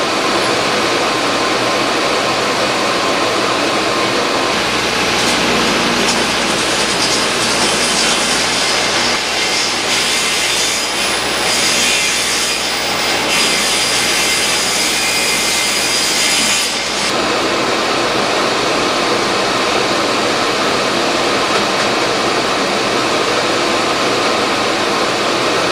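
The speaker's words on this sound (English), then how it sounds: "I rip these down to 2-inch strips." Table saw ripping wood into 2-inch strips, a loud, steady high whine from the spinning blade that swells into a harsher cutting roar for about twelve seconds as the board feeds through, then drops back to the free-running blade.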